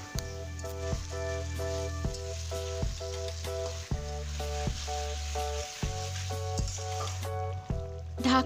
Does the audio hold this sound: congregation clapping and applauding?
no